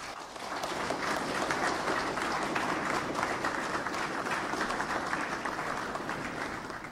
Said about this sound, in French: je demande spécialement à l'atelier des applaudissements répétés